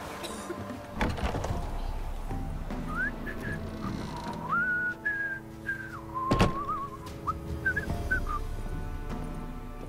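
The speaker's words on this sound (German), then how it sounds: "Pfeift eine Melodie." Someone in The Witcher 3 whistles a wandering melody in a city street, clear and mid-distance, with thuds, a sharp knock and faint background murmur around it.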